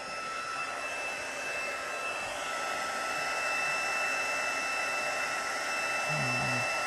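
A heat tool blows hot air to melt embossing powder on a card, producing a steady, close whirring hiss with a constant whine that runs unbroken throughout.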